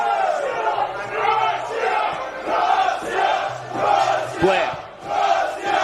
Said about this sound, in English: Oh, the crowd riding every touch of the ball now.